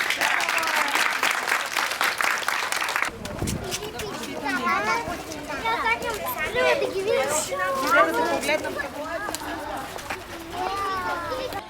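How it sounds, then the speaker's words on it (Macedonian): Children in an early childhood group clap together in loud, rapid applause for about three seconds, then it gives way to lively children's chatter and playful shouting filling the room. "аплауз за сите!"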